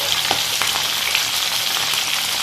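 Onions and green chillies frying in hot oil, a loud, dense sizzle close up with a couple of faint stirring taps, continuous throughout.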